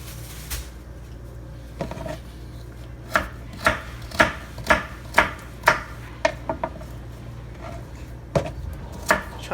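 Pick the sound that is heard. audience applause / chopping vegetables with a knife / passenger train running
chopping vegetables with a knife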